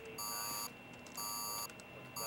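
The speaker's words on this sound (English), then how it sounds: "Larry, we have an alarm in Sector 3." An alarm goes off in Sector 3 at a monitoring station in a disaster action film: three bursts of loud, layered electronic beeping, separated by brief gaps, over a steady background hum.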